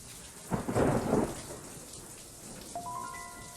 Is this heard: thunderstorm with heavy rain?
yes